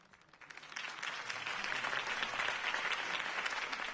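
A crowd in the video game Batman: The Telltale Series breaks into applause that swells quickly and holds at a steady, enthusiastic level, heard from a moderate distance.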